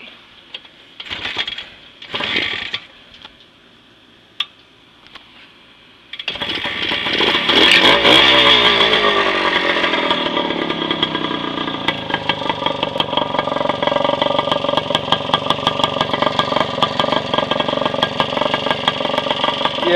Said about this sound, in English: So anyways, I'll start it up for you and show you the headlight and instruments and stuff and call it good.